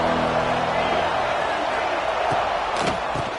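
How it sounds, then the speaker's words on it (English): A crowd at a Penn State–Oregon college football game makes a steady, loud roar across the stadium, with a few sharp thuds and a whoop near the end. "This crowd ready to make its presence known."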